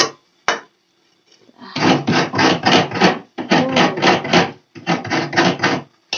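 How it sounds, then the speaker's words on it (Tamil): Coconut is grated by hand in rhythmic bursts of rasping scrapes, in three runs of quick strokes after a couple of isolated knocks, close up with no voices. "அது தேங்காய் துருவுறது."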